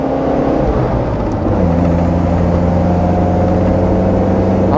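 A 1978 Alfa Romeo Spider engine drones loudly and steadily from close by, its pitch dropping and then rising as the driver heel-toes through tight corners.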